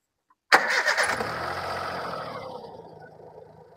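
A 2012 Hyundai Eon car engine cranks and catches abruptly after a short silence, revving briefly before settling into a smooth, gradually quieter idle nearby.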